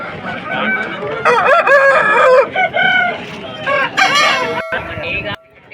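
A rooster over a year and a half old crows loudly and close at a Vijayawada rooster market, one long crow followed by further clucking calls, with other birds faintly behind.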